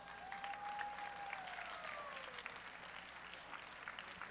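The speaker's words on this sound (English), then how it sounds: "now give them one more round of applause" Crowd applauds at a college powerlifting nationals meet, faint and distant, a continuous wash of clapping with a brief whistle-like tone near the start.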